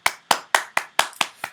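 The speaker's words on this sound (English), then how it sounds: "another round of applause to Ava Rice" Seven sharp hand claps in an even rhythm, crisp and close, the last one softer. They sound more like one or two people than a crowd.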